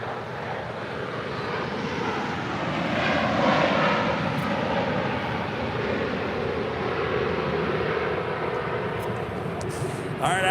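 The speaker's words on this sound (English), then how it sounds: "Emirates A380 heading back to Dubai" An Emirates Airbus A380 roars down the LAX runway on takeoff, a loud, steady jet rumble that swells and holds for about ten seconds.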